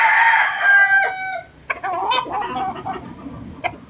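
A white Kelso cross gamecock rooster crows loudly and close by in one long call, followed by quieter clucks and scattered fowl noises.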